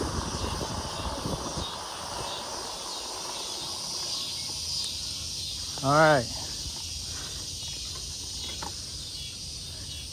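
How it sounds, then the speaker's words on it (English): Constant high-pitched summer chirring of crickets and grasshoppers fills the background in Columbus, Georgia, while a person speaks briefly and a short rising call sounds once. "Tell summertime from the sound of all the grasshoppers, bugs,"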